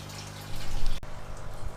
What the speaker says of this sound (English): So we're now in the process of filling all the tanks back up.